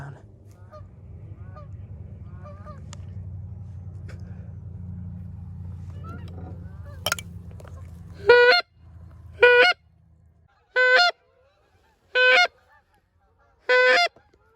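Geese honk during a goose hunt, a few faint distant calls at first, then five loud close honks spaced about a second apart, following a low rumbling background that fades out.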